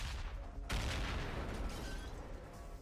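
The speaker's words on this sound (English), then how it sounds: "you ever accidentally just cook a grenade in your hand?" A grenade cooked too long goes off in the player's own hand in a video game: a sudden loud blast that swells into a sustained rumbling roar with crackling debris, staying heavy and close for several seconds.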